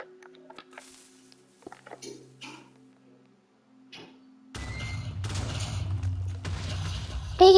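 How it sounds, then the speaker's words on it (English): Minecraft TNT goes off after some quiet game clicks and taps: a sudden, loud, rumbling blast starts partway through and keeps roaring to the end. "Big explosions"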